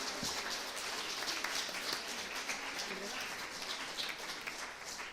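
An audience applauds at a talk, a dense spatter of many hands clapping, with voices faintly mixed in underneath.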